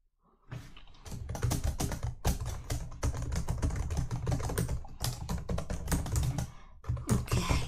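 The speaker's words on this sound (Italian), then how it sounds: "lei adesso mi va nella tastiera e mi clicca il tasto 1" Computer keyboard keys typed in rapid, steady bursts at close range, with a brief pause near the start and another toward the end, heard alone without talk.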